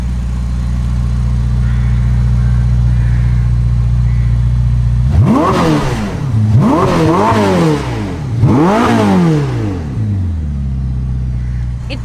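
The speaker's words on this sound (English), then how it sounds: "So what does the most powerful Ferrari sound like?" A twin-turbo V8 Ferrari engine idles with a deep rumble, then revs three times in quick, loud surges that rise sharply and drop back, close by.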